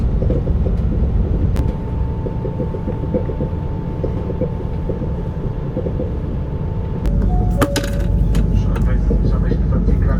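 Polish express train heard from inside a carriage: a steady low rumble and rolling clatter throughout, with a faint sustained tone and a burst of brighter squeals and clanks near the end.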